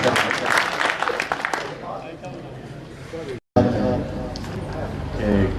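An audience applauds at a Saraiki poetry mushaira, with a burst of clapping heard alongside a voice. The clapping dies down, and speech carries on through a brief dropout.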